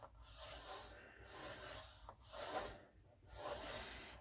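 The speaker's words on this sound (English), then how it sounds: "I'm just going to score right down through there." A blade scores a paper file folder in repeated short rasping strokes, quiet and close, with brief pauses between passes.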